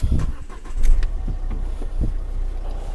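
A 2014 Renault Kangoo engine cranks and catches, a close, loud low rumble with a few sharp bursts as it starts.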